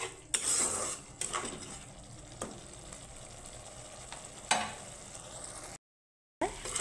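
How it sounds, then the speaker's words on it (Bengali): Spice paste with chilli powder sizzles in a pan for a pabda fish curry, with a steady soft frying hiss under several sharp clinks and scrapes of a spoon stirring, then a brief silence near the end. "এখন মশলাটাকে আমি একটু হালকা ভেজে নিব, মশলা কাঁচা গন্ধ চলে যাওয়া অবধি একটু কষিয়ে নিব"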